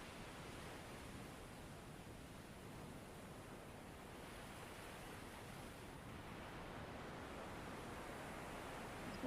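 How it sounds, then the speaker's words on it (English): Steady, broadband rush of ocean surf washing onto a beach, a continuous even wash of breaking waves heard alone at moderate level with no voices. "listening to the sound of the surf, watching the waves ebb and flow with the rhythm of your breath."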